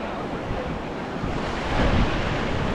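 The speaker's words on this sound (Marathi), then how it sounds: "इकडे समुद्र आहे मागे सगळं" Sea waves wash against a rocky coastal trail, a steady close roar of surf with wind buffeting the microphone and a swell rising near the end.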